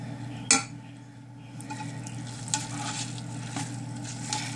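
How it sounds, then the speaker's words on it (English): Seized cold process soap batter is stirred in a pot over direct heat, giving a steady close sizzle and faint scraping, with a sharp clink of the utensil against the pot near the start and a low hum underneath. "And just keep stirring it so it doesn't burn on the bottom."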